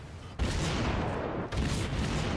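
Naval gunfire from a Murmansk cruiser battle in World of Warships, loud broadband blasts with a sharp onset near the start and another salvo midway, sustained rumbling booms between them.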